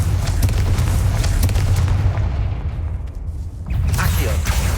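A Confringo explosion spell from the video game Hogwarts Legacy lands as a series of booming blasts, loud and close, with a brief lull before another burst.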